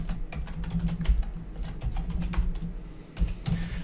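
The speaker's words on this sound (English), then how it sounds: "And so now I'll type that in." Typing on a computer keyboard, a quick irregular run of close clicking keystrokes with short pauses between bursts and no talking.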